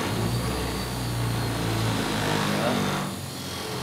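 A series DC motor with a loose connection hums steadily with a low mechanical whir, then its power is cut near the end and the sound drops away; no one speaks over it.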